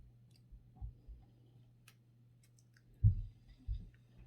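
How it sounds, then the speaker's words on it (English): Paper trimmed for the top of a handmade junk journal cover, giving a few soft, faint cutting clicks spaced apart in a quiet room. "Now I'm going to trim this top part down just a little bit more."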